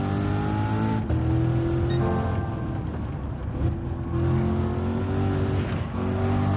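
Steady, loud race car engine droning at Laguna Seca in Gran Turismo, with pitch sweeping up and down through gear changes and corners and a faint tire squeal, continuous throughout.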